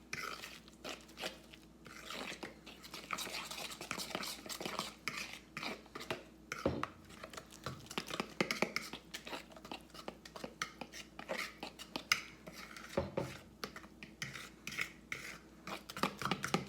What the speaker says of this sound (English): I'm gonna stir up the cornbread mix just until it's mixed well